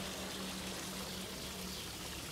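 Water from a small waterfall spills steadily into a pond in an urban stream in Greece, a continuous soft rushing and splashing wash that stays faint and even throughout, with no voices.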